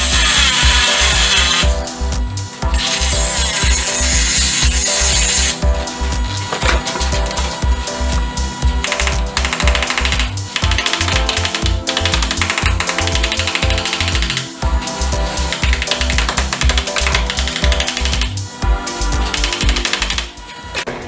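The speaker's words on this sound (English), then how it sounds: "Maybe a smaller cutoff wheel." A power tool fitted with a smaller cutoff wheel makes fine cuts on metal during a 460 engine swap into a dually truck, giving a loud, continuous grinding whine with rapid pulsing bursts and no voices.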